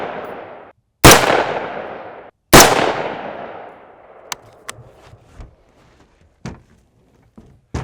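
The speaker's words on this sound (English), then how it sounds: "So we're gonna shoot a group here and see what it looks like." Two loud, close rifle shots fired at a target, each followed by a long decaying echo, then several fainter, sharper pops and clicks scattered through the rest.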